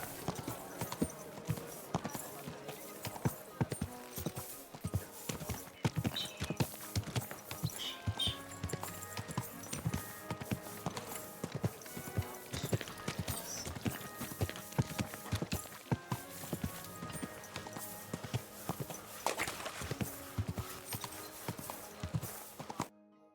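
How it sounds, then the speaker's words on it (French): Horse hooves clip-clop at a steady trot in a video game, fairly close and continuous but partly buried under a dense bed of game music and effects. "Tout doux, bon cheval."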